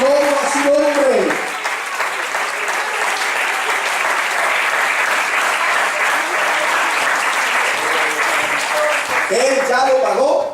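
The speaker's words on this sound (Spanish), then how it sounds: "¿Por qué no le dan un aplauso a Jesús?" A church congregation claps in a loud, sustained burst that fills the middle of the clip, with a speaking voice audible before and after the applause.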